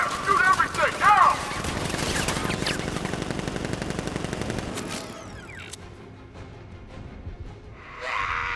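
Guards open fire in Batman: Arkham Knight, a dense, sustained fusillade of rapid automatic gunfire at close range for several seconds, with sharp shots at first before it falls away into quieter ambience.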